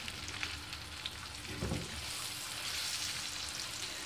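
Keema paratha fries in oil on a pan, a soft, steady sizzle with a brief louder crackle partway through, close and fairly quiet.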